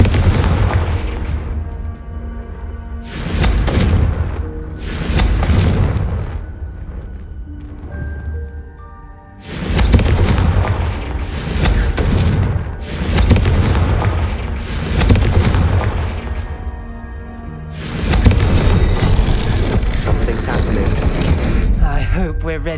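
Confringo fire spells burst repeatedly in Hogwarts Legacy, a series of loud booming explosions spaced a few seconds apart, each decaying with a rumbling tail, ending in a longer sustained blast.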